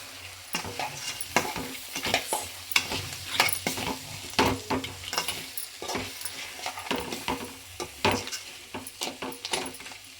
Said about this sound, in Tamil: இது ஓரளவுக்கு வதங்கின உடனேயே நம்ம நண்டை தூக்கி போட்டுடணும்